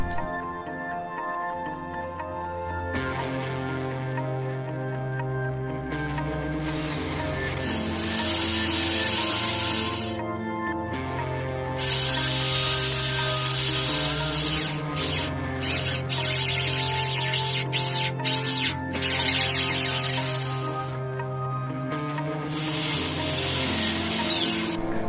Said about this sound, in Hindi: तो चलिए अब ड्रिल करते हैं।